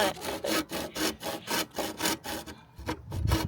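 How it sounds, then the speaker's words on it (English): A handsaw cuts through wood during an RV drawer slide mount repair, giving a fast, steady run of rasping back-and-forth strokes. The strokes pause briefly, then a low knock follows near the end. "And I'm using a handsaw"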